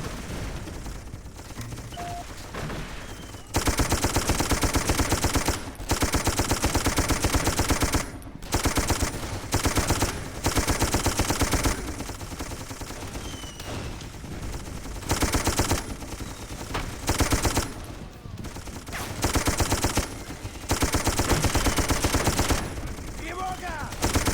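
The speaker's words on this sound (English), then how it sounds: "Get your ass on that gun and provide cover fire." Sustained machine-gun bursts laying down cover fire in the video game Darkest of Days, loud dense rattling volleys broken by brief pauses, with game effects mixed in and no talk.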